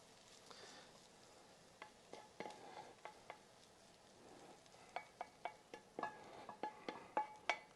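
Caramelized onions are stirred into beer in a bowl with a spoon, making soft wet stirring sounds and quiet clinks that grow into a quicker rhythmic series of taps toward the end.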